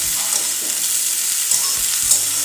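Eggplant pieces fry in a wok with a loud, close sizzle, punctuated by several short scraping stirs against the pan.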